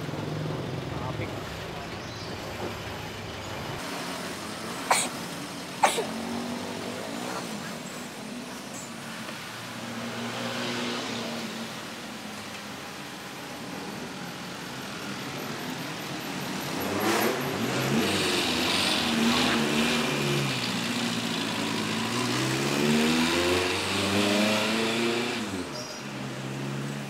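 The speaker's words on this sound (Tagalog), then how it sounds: "Traffic." Busy road traffic, with cars passing and engines revving at varying distances, a couple of sharp knocks early on, and voices talking over the steady vehicle noise.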